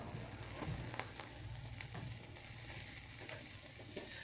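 Egg sizzling and frying in a pan for a wrapped breakfast dish, a steady close crackle with occasional soft scraping, and no voices.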